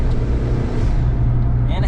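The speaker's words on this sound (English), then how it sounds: "You hear the turbo spool" A small turbocharged Kei car's engine drones loud and close with a rising whoosh of turbo spool layered over the steady motor noise.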